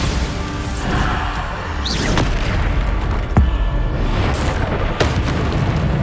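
Bombarda explosion spells in Hogwarts Legacy gameplay: repeated booming blasts and crashing impacts with whooshes, loud and dense throughout, with no talking.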